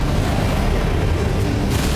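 An explosion from the My Hero Academia anime, in the episode "Disaster Walker", makes a loud, sustained, rumbling roar that fills the whole two seconds, with no talk over it.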